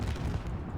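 A grenade explodes during an objective-defense match in a first-person shooter game, a short dense burst of booming rumble with no clear separate blasts.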